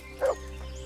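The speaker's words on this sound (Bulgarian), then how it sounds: "Дърто куче." A single short bark or yelp from a dog in the medieval game Kingdom Come: Deliverance, a brief clear bow-wow over a low background hum.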